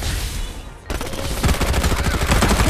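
Rapid automatic gunfire in Farlight 84 bursts in after a short quieter lead-in and keeps rattling loud and continuous to the end.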